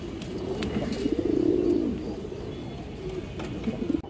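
A healthy, active male pigeon coos repeatedly at close range, a low warbling phrase swelling in the middle and a shorter one near the end, with soft ambient noise and no talking.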